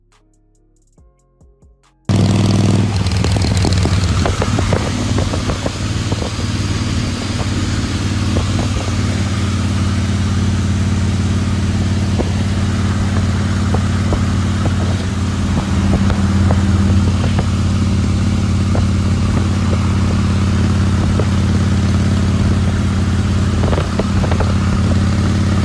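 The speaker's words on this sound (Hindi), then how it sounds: "सना ड्राइव कर रही हैं आगे बाइक" A motorbike ridden on an open road with a rider and a passenger on the back, its engine a steady loud drone with constant wind rush and rattling clatter throughout, starting abruptly after a brief quiet moment.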